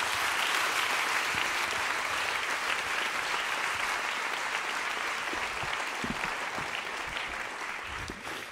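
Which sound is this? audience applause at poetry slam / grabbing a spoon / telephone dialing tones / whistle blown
audience applause at poetry slam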